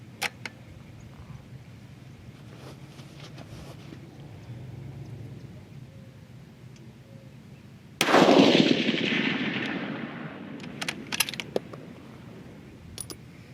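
A single loud rifle shot cracks during charge weight testing and rings out with a long fading echo, over quiet background with a few small clicks afterward.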